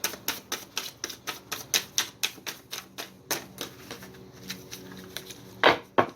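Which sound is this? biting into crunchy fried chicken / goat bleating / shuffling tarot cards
shuffling tarot cards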